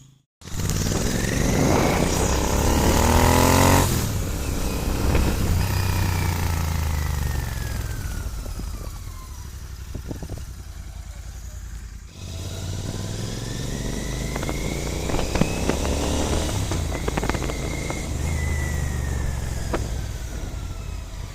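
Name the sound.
Royal Enfield GT 650 motorcycle riding after service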